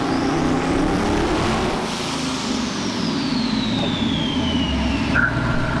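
AMC Pacer engine roaring steadily on a dynamometer pull, a loud sustained drone with a rising whine that sweeps down near the end, no talking.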